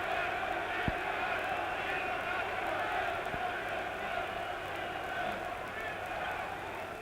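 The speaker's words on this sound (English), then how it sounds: "getting a tremendous reception from this huge German crowd" A huge German crowd roars steadily for a boxer at the Ali versus Mildenberger heavyweight title fight, a broad, distant-sounding swell with a little scattered clapping, heard through an old broadcast.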